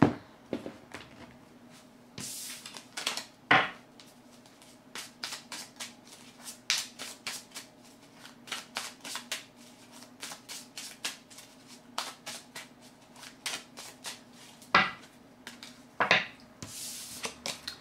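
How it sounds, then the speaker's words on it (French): Tarot cards being shuffled by hand, a long run of quick, soft riffling flicks in irregular bursts, close and fairly quiet, with a few louder slaps and rustles along the way. "Je vais mélanger une carte."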